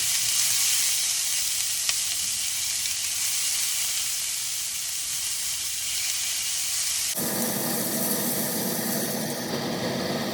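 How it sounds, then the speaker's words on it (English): Chopped onion sautéing in a pan for sooji upma, a loud, continuous frying hiss that shifts abruptly partway through as the onion is stirred, no voices. "I'll add the onion. And we shall saute it"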